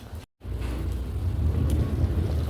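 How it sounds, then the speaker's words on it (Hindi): Steady low rumbling bubble and simmer of mutton curry with onions and spices in a covered pot over charcoal, continuous and fairly loud after a brief silent gap near the start. "बुलबुलों की आवाज़ आ रही है।"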